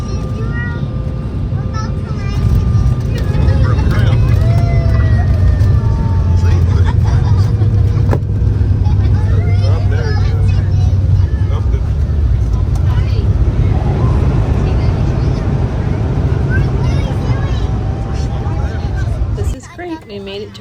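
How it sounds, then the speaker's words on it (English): A passenger airliner touches down and rolls out, heard from inside the cabin as a loud, sustained low roar with rising and falling whines, easing off near the end while voices murmur underneath. "Let's listen to what the landing sounds like."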